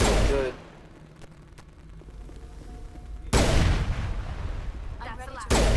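Pistol fire in the video game Mass Effect 1 comes in loud, dense bursts at the start, in the second half and again at the very end, with a quieter lull between.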